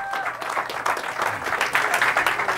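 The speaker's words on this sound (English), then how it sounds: "Give yourselves a round of applause." Audience applause at the close of a 2019 talk on Moorish heritage in the Americas: dense, sustained clapping from a crowd, steady and fairly loud throughout with no break.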